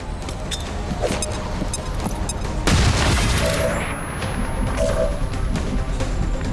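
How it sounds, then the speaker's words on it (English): A flashbang grenade goes off in the turn-based strategy game XCOM 2. A sharp, loud burst lands near the middle, amid ongoing game noise and short tonal effect sounds. "Flashbang!"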